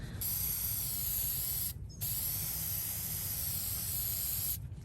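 A can of Loctite rust neutralizer sprays in long continuous hissing bursts at close range, with one brief pause between bursts and the spray cutting off at the end.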